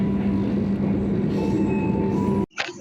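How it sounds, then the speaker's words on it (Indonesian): A continuous loud rolling rumble comes from aboard the Bogowonto train as it runs straight through Cikampek station, with a faint steady tone above it, then a sudden drop to near quiet and a short burst of noise at the end. "dan melintas langsung di stasiun Cikampek teman-teman untuk kereta api Bogowonto-nya."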